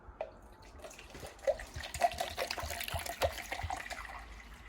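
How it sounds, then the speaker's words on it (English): Water is poured into a measuring cup, giving a faint splashing trickle with small bubbling plinks that rise and fall irregularly, heard close up without speech. "I'm going to pour this back into a measuring cup that tells us where 1 liter is"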